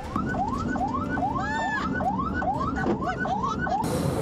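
Ambulance from a community health centre in Indonesia sounding its siren, a loud repeating wail of rising sweeps with a few short horn-like blasts mixed in, close and continuous over traffic.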